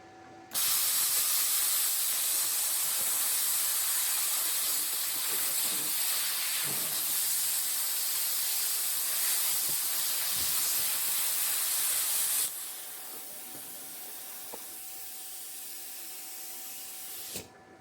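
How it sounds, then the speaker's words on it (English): A 50 amp plasma cutter gouges a hole in half-inch steel plate, producing a loud, steady, close roaring hiss for about twelve seconds before dropping to a quieter continuous hiss, with no talking. "I'm just wrecking the plasma cutter at this point. I mean, it's just gouging a hole in the 1/2 inch plate."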